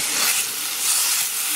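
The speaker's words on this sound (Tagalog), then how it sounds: "So igigisa ko na siya." Ground beef sautéing in a pan, a steady bright sizzle and hiss close up, loud and unbroken with no talk.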